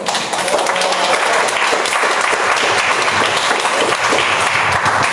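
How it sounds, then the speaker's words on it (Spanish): Audience at a poetry reading in a library applauding a poet and his family, loud continuous clapping that holds steady for several seconds. "desde el corazón un aplauso a este hombre y a su familia y a cada uno de ustedes"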